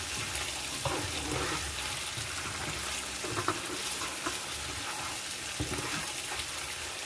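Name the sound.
cardamom seeds frying in pan for chicken madras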